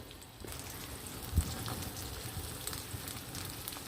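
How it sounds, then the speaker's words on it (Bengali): Quiet, steady crackling sizzle of chopped onions frying in tempering oil in a wok, with a faint knock partway through and no talking. "এবার আমি এই ফোড়নের মধ্যে দিয়ে দেব কুচানো পেঁয়াজগুলো"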